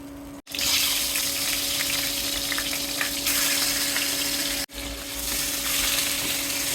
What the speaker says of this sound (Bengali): লাল করে মাথাটা ভেজে নেব